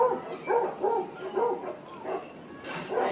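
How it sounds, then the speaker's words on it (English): Several dogs bark in a television comedy scene, a rhythmic run of about five or six loud close barks and yips at even intervals. "The dogs are here because there's no dog park in your neighborhood"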